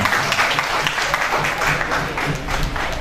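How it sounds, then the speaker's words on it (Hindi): Audience applause at a poetry gathering, a loud, dense burst of clapping that continues steadily for the full stretch. "आप दोस्तों की भरपूर तालियों में डॉक्टर गुल अब्बास अवान साहब।"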